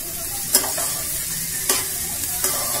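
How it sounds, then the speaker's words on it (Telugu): Onions frying in a pan with a little salt, a steady close sizzle with three sharp spatula scrapes and clacks of stirring spaced across the short stretch. "ఆనియన్స్ తొందరగా ఫ్రై అవ్వాలంటే కొంచెం salt వేసుకుంటే ఈజీగా ఫ్రై అయిపోతాయి"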